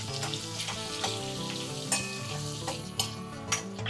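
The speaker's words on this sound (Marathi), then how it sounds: "आणि आता आपण हे सगळं हलवून घेऊया" A spice mix of coriander powder, cinnamon and cardamom stirred in a hot pan, a brisk sizzle with rhythmic scraping strokes and light clinks close by, no talking.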